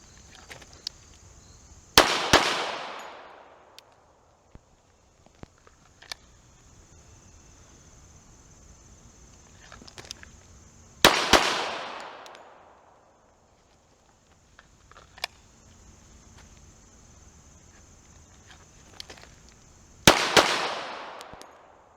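Handgun fired in controlled pairs: three separate bursts of two sharp, loud shots each, spaced roughly nine seconds apart, each followed by a brief ringing decay and then quiet.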